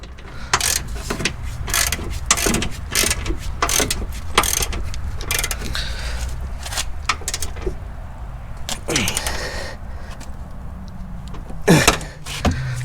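Ratchet clicking in quick bursts while tightening a part on a Corvette C5 Z06, sharp close ticks with short pauses between strokes and a metallic clank near the end.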